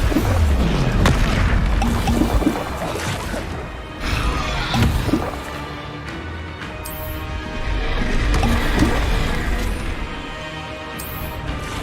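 Repeated Incendio fire spells cast in Hogwarts Legacy during combat in the Forbidden Forest, giving loud, dense booming and crashing bursts that recur across a busy, continuous battle mix.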